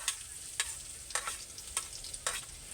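Garlic frying in a pan makes a quiet, soft sizzle, broken by about five sharp scraping strokes of stirring spaced roughly half a second apart.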